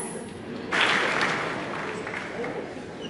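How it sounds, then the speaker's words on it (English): An audience claps as panelists walk onto a stage, the applause swelling abruptly after a quiet start and then continuing as a sustained, moderately loud wash of clapping with voices murmuring underneath. "Let's continue to clap until we sit down."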